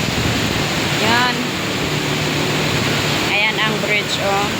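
Steady, dense hiss of heavy rain pouring down near a bridge by Titiwangsa train station, a constant broadband wash with a voice speaking briefly over it at moments.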